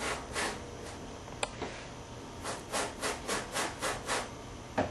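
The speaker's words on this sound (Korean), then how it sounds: "이 솔을 이용해서 이 부분을 먼저 전처리를 하겠습니다. 자, 문지르실 때는 세게 문지르지 마시고 부드럽게 살살." Stiff brush rubbing gently over leather to pre-clean it, a close, soft scratchy swish repeated in a quick, even rhythm of short strokes.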